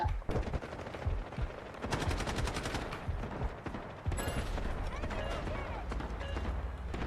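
Automatic gunfire in the Delta Force video game, rapid bursts of machine-gun shots crackling loudly throughout with dense continuous firing, players' voices heard over the shooting.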